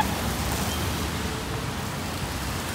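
Steady rain falling outdoors, a constant broadband hiss with no clear individual drops, even and unbroken for the whole stretch, no voices.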